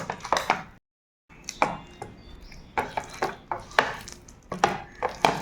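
Wet, squelchy hand-mixing of mashed bhorta with mustard oil, a series of sharp sticky slaps and squishes in quick irregular bursts, close and loud, with a brief silent pause near the start.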